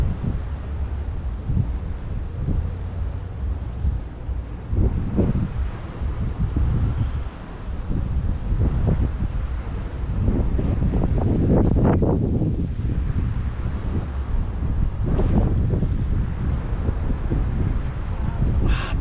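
Steady wind roars and buffets the microphone on open water during a fishing outing from a paddle craft, a continuous blustery rush with gusts swelling throughout.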